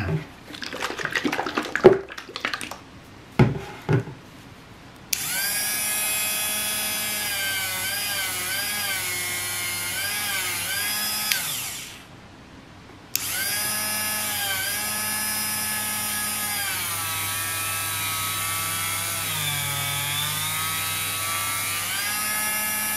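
A power tool whirs steadily while polishing old two-tier aluminum Mini 4WD rollers, a sustained high-pitched spinning tone after some short clatter, briefly stopping once before resuming.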